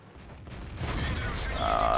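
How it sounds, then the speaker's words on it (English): A Batchat 25t tier 10 French medium tank's cannon fires in a tank video game, producing one sharp blast that swells into a rumbling boom, with game ambience underneath. "I hate firing on this tank."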